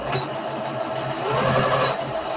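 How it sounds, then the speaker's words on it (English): A sewing machine runs steadily as it stitches a straight line across the fabric of a small Easter bunny treat bag, making a continuous close hum that swells slightly midway. "I'm just using the edge of my presser foot to sew it down straight across"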